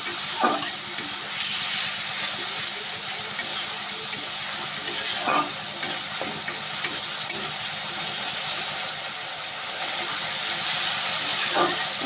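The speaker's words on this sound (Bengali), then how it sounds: "দিয়ে মশলাটা ভালো করে ভেজে নেব" Steady frying sizzle of spice paste in hot oil fills the whole stretch, with a few brief scraping stirs; no voices.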